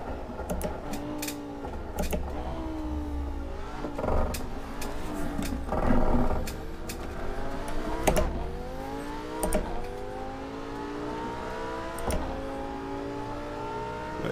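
A Lamborghini in the racing game Assetto Corsa howls at speed, its engine note rising and falling through gear changes with sharp clicks of controller or keyboard input, loud and continuous with no talking.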